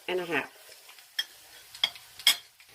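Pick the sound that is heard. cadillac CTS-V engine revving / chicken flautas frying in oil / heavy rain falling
chicken flautas frying in oil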